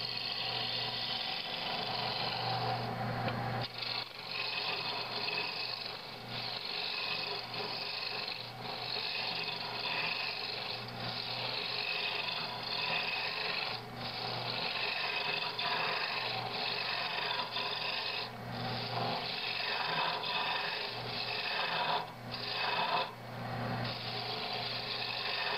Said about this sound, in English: some very light cuts to save me from a lot of heavy skewing and mucking up my shape